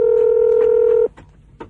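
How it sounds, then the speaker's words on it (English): A telephone keypad sounds one long steady dialing tone for about a second, followed by a couple of faint clicks and quiet room noise. "Oh, I think I dialed the wrong number,"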